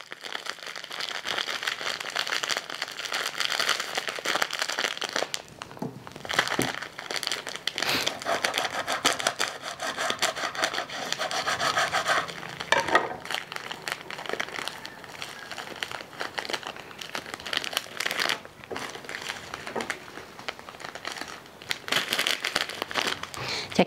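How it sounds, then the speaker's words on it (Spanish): A cookie package cut open with scissors, giving close, busy plastic crinkling and rustling with snips and tearing noises, continuing for over twenty seconds. "Ya voy a cortar aquí el paquete de galletas para ponérsela."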